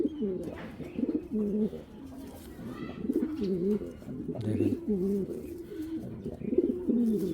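A racing pigeon cock coos repeatedly in bursts of throaty, rolling calls close by, a fairly continuous run of coos with brief gaps and a short spoken word among them.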